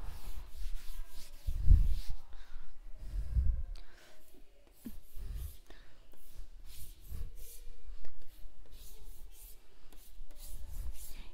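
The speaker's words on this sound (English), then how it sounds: "I have to rub the board for the next two." A board in a first-grade mathematics classroom is rubbed clean with a steady series of scrubbing strokes, rhythmic rubbing bursts recurring every second or two at close range.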